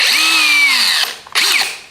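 A power drill whines steadily for about a second, stops briefly, then spins up again in a second short burst, loud and close, drilling a 3mm pilot hole on a rotary-swapped Honda QA50.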